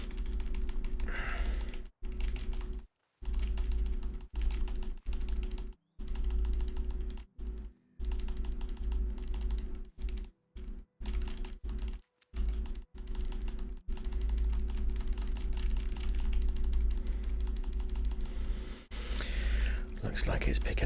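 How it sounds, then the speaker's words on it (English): Rapid tapping on computer keyboard keys, picked up by a microphone while the building game Pax Dei is played, runs in dense clicking bursts with brief gaps over a steady low hum, with speech faintly underneath. "Looks like it's picking up all of the times I tap on the keys"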